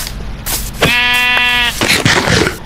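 A sheep bleats in Minecraft, one loud, wavering, drawn-out blocky bleat, close and clear between bursts of game sounds.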